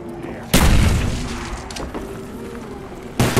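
A grenade explodes in Black Ops 1 Zombies on the Verruckt map: a loud booming blast with a long rumbling decay, followed by a second explosion breaking in at the end.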